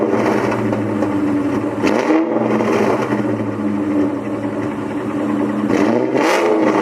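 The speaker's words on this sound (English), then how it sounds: "I can rev her a little bit harder" A 2003 Cobra car engine runs loud and close with a steady, rough drone, briefly dipping then surging in revs twice, with no talking over it.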